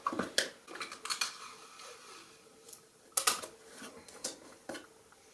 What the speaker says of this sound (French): Colle pas très bien sur le carton ce scotch.